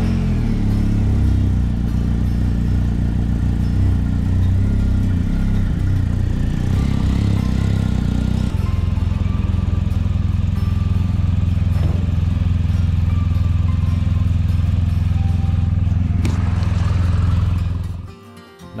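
A motorcycle engine drones steadily while riding through Eifel National Park in spring, with wind buffeting and a shift in engine pitch midway. Near the end the sound fades away abruptly.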